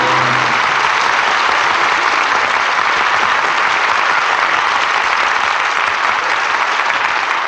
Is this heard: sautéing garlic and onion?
no